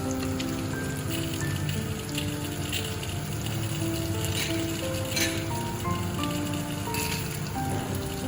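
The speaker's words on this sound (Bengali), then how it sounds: "গোটা গরম মশলাগুলো দিচ্ছি" Whole garam masala sizzles in a pan with fried onions for a chicken curry, producing a steady, close, rain-like hiss that stays even throughout.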